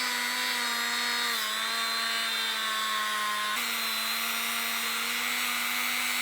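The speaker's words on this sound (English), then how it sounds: "I'm going to use my Dremel, and I'm going to take the paint off, get it down to bare metal" A Dremel rotary tool grinds paint down to bare metal at an ignition coil ground point on a barn-find 1991 Honda CR125, a continuous close-up high whine whose pitch dips briefly under load.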